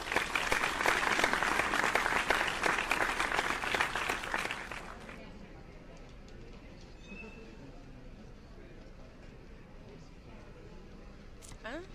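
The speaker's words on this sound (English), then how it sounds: "A round of applause for my fellow graduates" Applause for graduates in The Crooked Man video game, a bright burst of crowd clapping lasting about five seconds that cuts off abruptly into quiet background hum.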